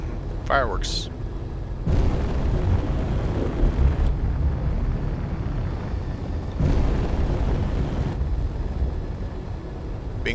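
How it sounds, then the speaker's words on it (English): Fireworks exploding in the video game Space Engineers: two long, rumbling booming bursts of roaring noise, each lasting about two seconds, with a brief chirpy effect at the start and a voice faintly present underneath. "Fireworks."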